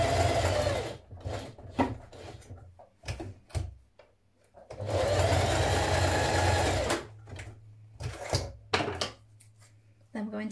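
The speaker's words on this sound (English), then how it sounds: "Now we're going to sew our two short ends of our cuffs together." Sewing machine stitching the short ends of a top's cuffs together in several bursts of fast whirring, separated by pauses with clicks and handling sounds, close and clear, with a low voice in the background.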